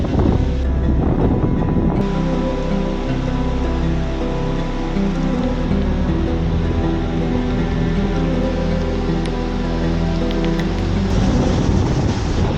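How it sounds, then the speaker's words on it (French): Heavy wind and rain roar continuously against the microphone for the whole stretch, a dense, loud rumbling blast with a constant low drone. "c'est le vent, la pluie"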